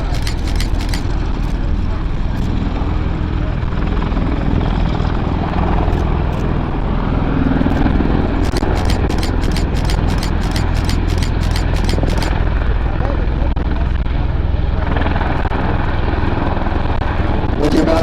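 An MV-22 Osprey tiltrotor flies a 360-degree turn at an air show, its loud, steady rotor and engine drone holding throughout while a commentator talks over it.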